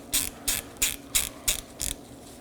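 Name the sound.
ratchet tightening brake rotor T30 set screw, Chevrolet Equinox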